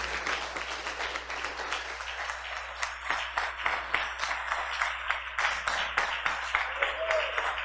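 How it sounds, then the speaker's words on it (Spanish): A church congregation claps jubilantly, dense continuous applause with rhythmic emphasis building toward the end, voices faintly mixed underneath. "pero un aplauso de júbilo, hermano"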